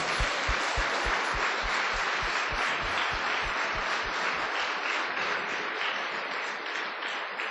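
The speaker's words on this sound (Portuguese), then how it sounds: "aplauda o nome do Senhor" A church congregation claps together during a Lord's Supper celebration service, a steady wash of applause with rhythmic low thumps early on that fades slightly toward the end, no voices over it.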